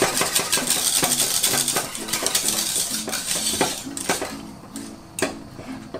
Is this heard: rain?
no